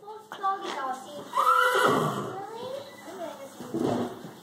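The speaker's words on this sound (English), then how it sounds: "That's the new horse." A horse whinnies nearby, a high wavering neigh that rises and trails off, with quiet voices in the background.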